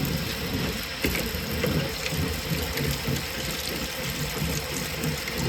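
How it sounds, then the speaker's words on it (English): Hot water runs steadily over a homemade fan blade being washed, a close, even rushing splash with small fluctuations as the blade moves under the stream. "So now we're going to go ahead and start cleaning the blade."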